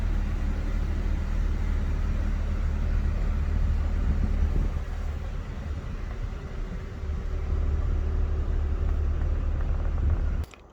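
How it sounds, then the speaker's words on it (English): A low-mileage Alfa Romeo GTV V6 idles smoothly at about 500 RPM, a loud, steady low rumble that dips briefly midway and then cuts off abruptly near the end. "I'll say that the RPM is a little bit low at 500 RPM."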